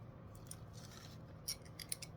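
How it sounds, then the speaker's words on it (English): Scissors cut away a bit of extra paper in a papercraft noodle-shop build, a few faint, crisp snips with short pauses between them over low room hiss. "now we can cut a little bit of this extra paper off of this one"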